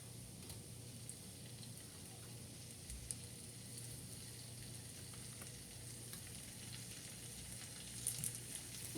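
Shrimp fry in a pan with garlic, giving a quiet, steady sizzle with small pops and a few stirring clicks toward the end, close but soft, with no talking.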